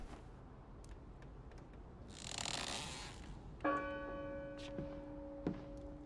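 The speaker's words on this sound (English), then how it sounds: "Is it gonna have something to do with this bell? Yeah, I can still pull it." A bell pulled in the video game Draugen, starting with a mechanical whoosh and then a single clear, ringing bell strike that sustains and decays, with faint clicks and knocks after it.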